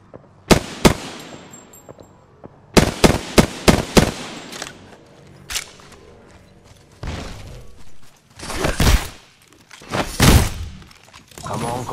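Gunfire from the video game Apex Legends comes as sharp, loud bursts of shots in quick clusters, with rapid volleys early on and heavier blasts later, and in-game voice callouts mixed in between.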